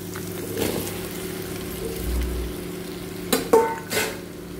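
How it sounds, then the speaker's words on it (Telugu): Okra frying in a pan with fried coriander, a soft sizzle under a few spatula scrapes and knocks that grow sharper near the end; no speech. "ఇప్పుడు మనము బెండకాయలు వేసుకోవాలండి. బెండకాయ ఫ్రై అవ్వాలి కొంచెం."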